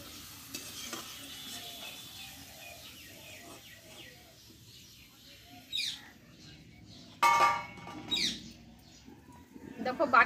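Homemade potato chips fry quietly in hot oil, a soft low sizzle with a few louder scraping and lifting bursts toward the end, with a voice speaking over it.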